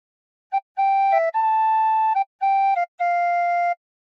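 A tin whistle plays a short, simple melody from "O Christmas Tree" in clear, pure notes, some held and some quick, with brief pauses between phrases.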